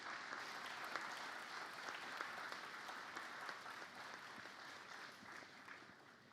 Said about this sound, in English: So give them another fantastic round of applause.